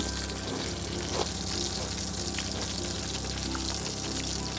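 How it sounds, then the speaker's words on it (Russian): Flounder frying in a pan in a winter fishing tent, with a steady, dense sizzle that runs continuously and fairly loud throughout, plus a low hum underneath. "Пока жарится у нас камбала"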